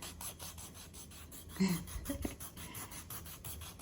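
Rhythmic rasping and sanding scrapes from a small electric callus remover on a heel, quiet and close, with a brief louder rub midway.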